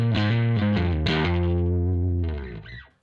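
Bass guitar through a fuzz pedal, played to imitate a heavily distorted MiniMoog synthesizer: thick, buzzy sustained notes with a few quick pitch changes, loud and close, fading out at the end.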